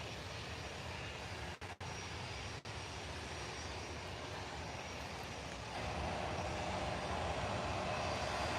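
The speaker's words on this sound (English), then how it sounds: "He'll hurtle down the runway in a minute and chuck it up in the air." Small airliner taking off down the runway at Manchester Airport, a broad steady engine roar heard from a distance that swells and brightens as power builds toward the end.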